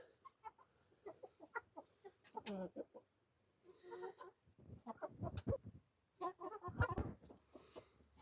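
Chickens being fed hydroponic fodder cluck in short, irregular bursts, close by and fairly quiet, with brief pauses between calls.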